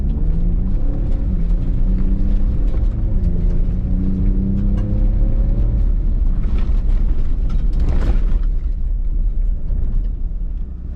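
A 2019 Ford Raptor fitted with Baja Designs LP4 lights drives on a dirt road, its engine a steady loud rumble with rising tonal revs and a burst of gravel and dust noise near the end.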